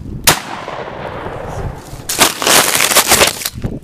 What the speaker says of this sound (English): No, shoot him again.